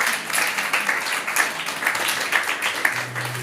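A church congregation applauds the Lord in steady, continuous clapping that holds at an even level throughout, with a faint voice underneath.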